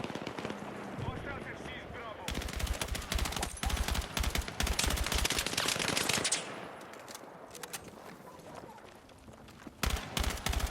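Dense automatic gunfire from the Battlefield 6 beta shooter game, sustained bursts and rapid shots layered over a loud, busy battle mix for around ten seconds, with a brief lull near the middle.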